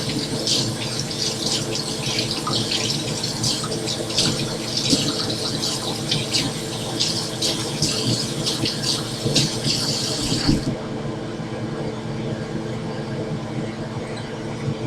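Tap water runs steadily into a kitchen sink to rinse residue down, a continuous rattling rush that holds throughout and softens slightly near the end.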